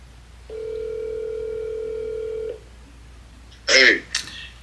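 An outgoing phone call rings out, a single long steady ringback tone lasting about two seconds, followed by silence and a brief burst of other sound.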